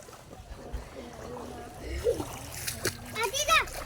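Children splashing while swimming in the sea, water slapping and sloshing nearby as kids' voices chatter and call out over the top.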